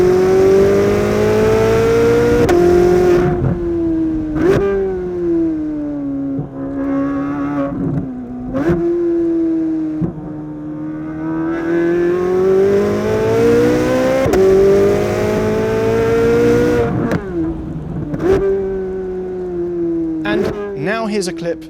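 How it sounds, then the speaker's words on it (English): A Chevrolet Corvette Z06 engine revs up repeatedly, the note rising smoothly through each gear and dropping sharply at each shift. The engine is loud and close, with no talk over it. "So here's a clip that we've recorded of the Z06."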